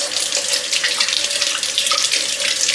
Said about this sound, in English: Just give them a rinse.